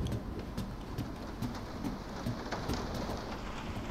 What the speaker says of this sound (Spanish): ¿Cómo llueve, eh?